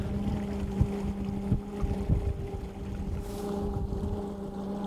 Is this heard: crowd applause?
no